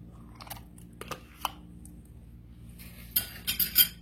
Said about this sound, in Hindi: इसको भी अच्छे से मिक्स कर लेंगे